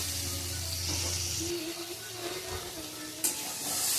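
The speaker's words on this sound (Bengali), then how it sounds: "আলু ভাজা হয়ে গেছে।" Potatoes tossed with turmeric fry in oil, giving a soft, steady sizzle up close with faint stirring, and a brief clink near the end.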